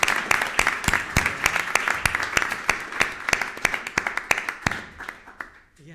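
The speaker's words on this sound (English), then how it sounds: "big round of applause" Audience at a conference in Brussels applauding its panelists, a dense burst of sharp handclaps that thins out and fades toward the end, fairly close with no talking.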